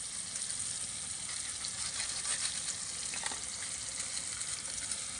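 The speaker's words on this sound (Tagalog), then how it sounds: "Magderang na ako sardinas kanini." Sardines frying in a pan give off a constant, even hiss of sizzling oil with faint crackles, close and steady throughout, and no one speaking.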